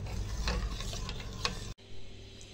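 Milk with sugar and cornflour stirred in a pot for ice cream, giving a continuous scraping, clicking churn with a few sharper knocks, close and steady, then a brief cut and quieter stirring; no voices.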